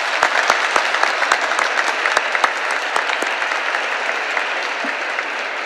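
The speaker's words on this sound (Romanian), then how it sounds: "Așa că să-l aplaudăm și să-i dorim." Inside Iași cathedral during a commemorative Mass, the congregation applauds the bishop, with loud, close claps forming a dense, even burst that holds for several seconds.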